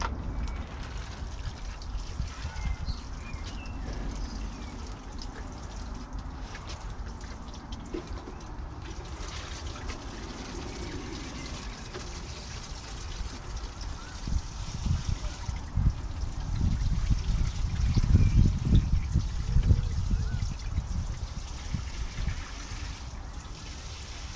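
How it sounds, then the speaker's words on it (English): Water is poured onto a tomato plant growing in compost, a steady soft trickle and splash that carries on throughout and swells toward the end, with no talk over it. "This is the first and last time I ever water the tomato."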